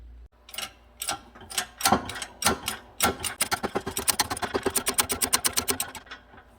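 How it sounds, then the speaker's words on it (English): A shop press working to push a wheel bearing into the front knuckle of a 2012 Ford Transit, making a loud, close rapid series of mechanical clacks and ratcheting strokes that speed up into a steady rhythm, with no talking. "we're going to set up on the press to do this rather than using the screw here"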